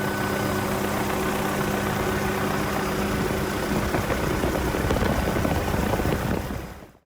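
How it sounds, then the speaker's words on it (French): An MBB BO-105 helicopter flies a loop, its engine and rotor giving a loud, dense, continuous roar that holds steady and then fades out abruptly at the end. "Cet hélicoptère fait un looping."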